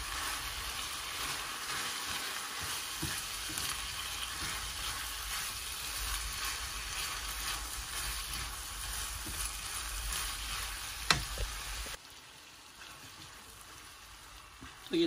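Chopped vegetables sizzle and fry steadily in a pan for pasta bolognese while being stirred, a continuous close hiss with a sharp clink near the end before the sound drops quieter.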